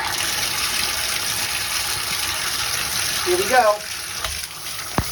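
Water gushes and squirts from a bathtub shower faucet spout that should not leak, a steady rushing spray under a brief spoken remark, with a rising tonal squeal and a sharp knock near the end.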